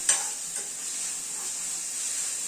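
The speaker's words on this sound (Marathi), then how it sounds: "थोडंसं अद्रक मिरची आणि लसूणची पेस्ट घालते, तेल थोडी परतून घ्यायची" Ginger, chili and garlic paste fries in oil for a masala sandwich filling, a steady close hiss of sizzling with a brief stir at the start and no talking.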